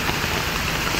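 Steady rain falls in a dense, unbroken hiss that fills the short stretch evenly and loudly, with no voices over it.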